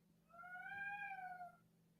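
A cat gives one long, drawn-out meow lasting over a second, heard fairly close over a steady low background hum, with no talking.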